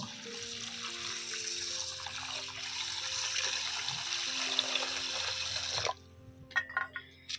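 Rice is soaked in water for lentil khichuri. Running water pours steadily and close for about six seconds, then stops and leaves a few faint drips and clinks.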